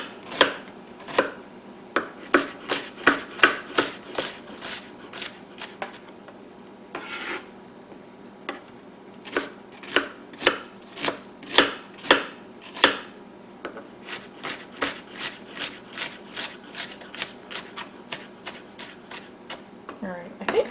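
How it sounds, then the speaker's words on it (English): Knife chopping onions and vegetables on a board while cooking a turkey dinner: a long run of crisp, close, rhythmic chops, some quick bursts and brief pauses between sets, with a little talk now and then. "go ahead and chop up the veggies since I'm right here"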